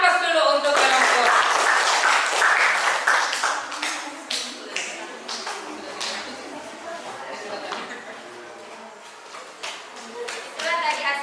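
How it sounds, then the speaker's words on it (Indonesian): Classroom audience applauding a presenting student group, a dense burst of clapping that swells at the start and thins into scattered claps, with voices talking over it. "berikan aplaus dulu untuk kelompok"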